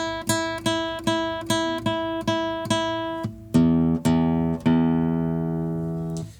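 Fingerpicked acoustic guitar strings giving a boomy, thuddy pluck: a steady run of single plucked notes, then a few fuller ringing strokes that decay slowly, close and clear with no voices.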